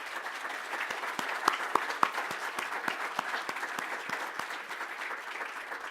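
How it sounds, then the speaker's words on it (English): Audience at a student electric-vehicle prize-giving claps for the teachers and students present, a dense round of applause with some sharper nearby claps standing out over the steady crowd wash. "give a round of applause to all the teachers and students that are here"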